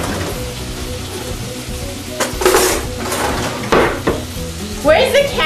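Food sizzles and fries steadily in a pan on a home stove, with louder crackling bursts and a few stirring and pan scrapes over a continuous hiss.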